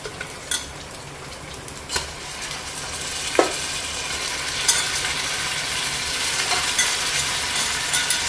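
Mutton fries in a pan of browned onions with a steady, close sizzle while a spoon stirs it, giving scattered scraping knocks against the metal. No one speaks.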